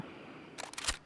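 Reloading a Remington .270 rifle in the hunting game Way of the Hunter, a quick run of crisp metallic clicks and a clacking bolt, loud and close, following a brief quiet pause.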